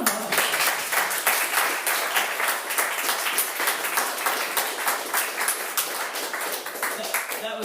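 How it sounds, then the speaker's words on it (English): Sustained applause from a room of people at a debate on pot legalization, dense steady clapping at moderate loudness with voices mixed in throughout. "Oh, a round of applause."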